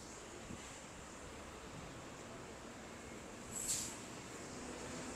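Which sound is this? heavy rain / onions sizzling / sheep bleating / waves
waves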